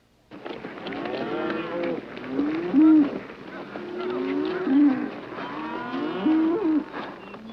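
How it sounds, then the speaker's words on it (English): A cattle herd is driven across grazing land in the 1978 film Comes A Horseman, with cows lowing close by in three drawn-out moos spaced a couple of seconds apart over a murmuring herd. "Robards drives his cattle across James Caan's grazing land"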